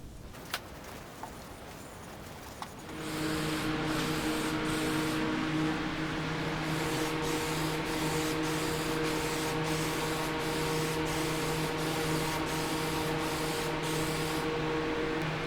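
Lacquer toner sprays in a steady, continuous hiss onto a wooden sculpture base, with brief pauses between light passes and a faint handling noise before the spray starts.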